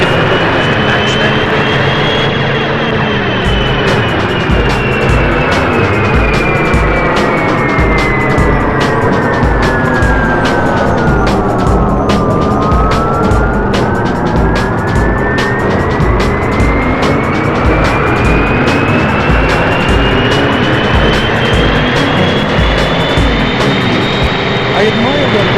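A plane's jet engine roars continuously and loudly in the PS1 racing game 007 Racing, its whine sweeping down in pitch and climbing back up, with rapid clicking and rumbling game effects over it.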